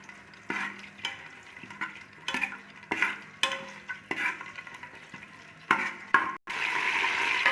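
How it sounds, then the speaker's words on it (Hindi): Whole spices frying in hot oil for a mutton and potato curry, with a utensil scraping and tapping the pan in uneven strokes over a low sizzle; a brief cut is followed by a louder, steady hiss. "खड़े मसाले डाल के इसको थोड़ी देर के लिए फ्राई करते हैं।"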